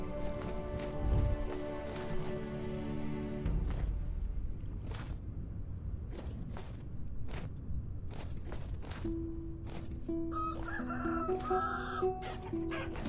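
A rooster in the Vintage Story video game crows and clucks amid other fowl, with a short musical tone early on and soft footsteps between the calls, fairly close and clear.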